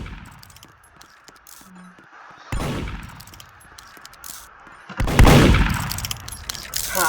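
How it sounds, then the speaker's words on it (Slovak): Gunfire in the Roblox zombie game Apocalypse Rising, heard as two loud broadband bursts a few seconds apart, with fainter clatter and shots in the background between them. "Strieľajú, ale na nič."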